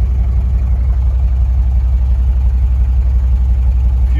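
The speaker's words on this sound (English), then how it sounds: "I just got back to my shop here and parked it outside, letting it idle." A Chevrolet 6.5 diesel truck engine idles outside a shop after a drive, a loud, close, steady low rumble with an even rhythmic clatter and no talk.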